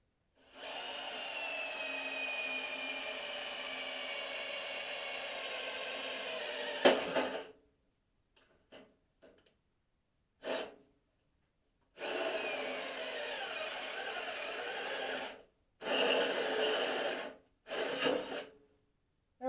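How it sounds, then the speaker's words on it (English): Small drill boring holes with tap magic lubricant for a Craftsman mower's first- to second-generation steering conversion, a long steady grinding run followed by several shorter bursts separated by silence, close and alone. "And let's get this little drill a go"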